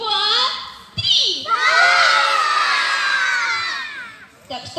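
A large group of children at a summer festival in Ilovaysk shout all at once on cue, a loud, dense burst of overlapping voices lasting about three seconds, close and bright, with a little adult speech before and after.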